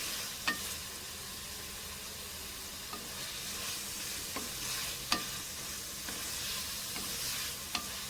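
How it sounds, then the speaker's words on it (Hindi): Chicken pieces fry in a pan for chicken jalfrezi, giving a steady close sizzle with occasional sharp ticks as the pieces are stirred and turned. No one talks over it. "अब चिकन देखें फ्राई होना शुरू हो गया है"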